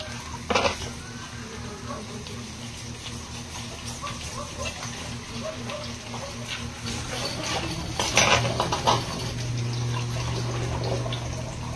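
Spaghetti cooking in a pan and being stirred, quiet clinks and scrapes with a couple of sharper knocks near the start and around the middle, under scattered talk in a busy home kitchen.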